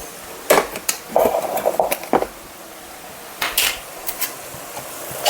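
Spoon stirring fresh coconut paste into amaranth greens in a pan, giving irregular scraping and knocking clatters in short bursts with quiet gaps between them.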